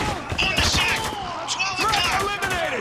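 Rapid bursts of heavy machine gun fire in the shooter game Spec Ops: The Line, loud stuttering volleys mixed with other gunfire and crackling effects, while a voice talks over it.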